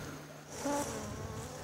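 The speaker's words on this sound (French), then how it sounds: "Ce ne sont pas les quelques abeilles qui butinent autour des ruches de Philippe et Olga Pacou" Honey bees foraging around beehives on Tubuai island in the Austral archipelago make a soft, steady buzzing hum. The sound is faint and continuous, with one brief closer swell partway through.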